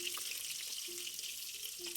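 Pieces of fish, Bengali mustard-style catla, frying in oil in a pan until reddened, heard as a faint, continuous sizzle with a few soft clinks, recorded from a distance and without talk.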